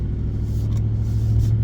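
A Factory Five XTF truck towing a trailer rumbles at low speed, a steady close engine drone without talk.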